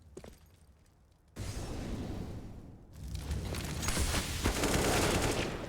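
AK rifle gunfire in the CS:GO video game, a quiet start giving way to sustained dense bursts of automatic fire and crackling impacts that grow louder toward the end.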